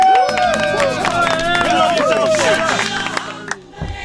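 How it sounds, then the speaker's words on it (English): Concert audience at a beach show clapping and cheering after a band's set, a lively crowd noise with voices and shouts layered over the applause, fading near the end. "One more time, a round of applause for these guys."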